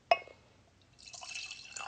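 Wine is poured into a glass: one sharp clink of glass, a short pause, then a steady, close liquid pour that splashes and gurgles to the end.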